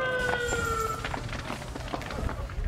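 An ambulance siren wails for a moment, then fades under scattered thumps and bangs in a noisy outdoor scene after an attack.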